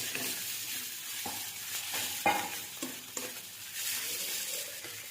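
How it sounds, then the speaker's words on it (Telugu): Salt and turmeric being stirred into a sizzling egg curry in a pan, a steady frying hiss with a few scraping strokes of the spoon, close and continuous without talk. "ఒక 1 స్పూన్ ఉప్పు అండ్ కొంచెం పసుపు వేసి మిక్స్ చేసుకోవాలి."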